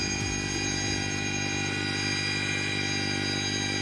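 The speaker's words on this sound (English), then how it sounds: "I was actually using the snowblower." An EGO electric two-stage snow blower clears snow outdoors, giving a steady, fairly quiet motor hum with a constant buzzing drone, close and continuous throughout.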